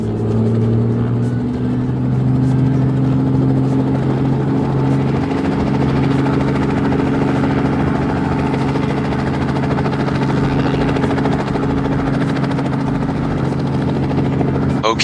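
A toy helicopter's engine starts up and runs as a steady, close electronic rotor drone with a tonal hum, loud and unbroken throughout.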